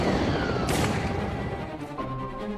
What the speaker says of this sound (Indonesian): Dor, ditembak.